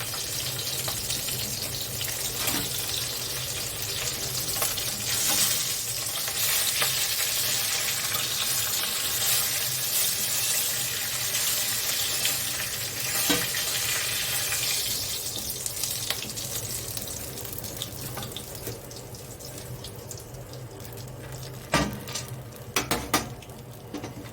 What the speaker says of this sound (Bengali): সবজিগুলো ভেজে নিচ্ছি।